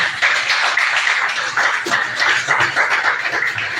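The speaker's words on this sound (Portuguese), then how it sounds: "E uma salva de palmas para Jesus." A church congregation at a Wednesday worship service gives Jesus a round of applause: dense, loud, continuous hand clapping with a bright texture that swells and dips slightly and carries on throughout.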